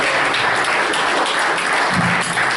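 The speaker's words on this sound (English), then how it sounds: "give you a good round of applause" A seminar audience claps steadily as a dense, even wash of applause that runs loud and unbroken throughout.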